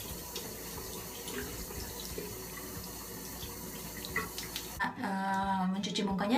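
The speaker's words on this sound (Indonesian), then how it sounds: "Mukanya dibasahin dulu ya." A tap runs into a sink as water is used to wet a face for washing, with a steady close splashing and trickling that swells louder near the end.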